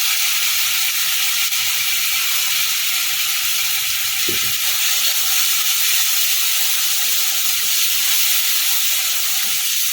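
Ginger and tomato lightly sautéing in a pan, a loud, even sizzling hiss holding steady throughout without talk.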